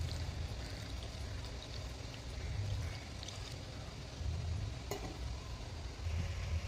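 Water is poured from a glass, about one and a half glassfuls, into a pan holding banana flower peel. It makes a steady, soft stream of splashing and running water that stays fairly quiet throughout, with a faint clink near the end.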